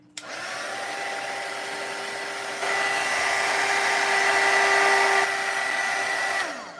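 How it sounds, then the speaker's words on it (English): A hair dryer blowing on fresh paint, a steady close whine that starts abruptly, rises slightly partway through, and cuts off at the end. "I'm gonna make sure my paint's dry. It's not completely dry, even though, yes, we dried it. I'm gonna dry it one more time."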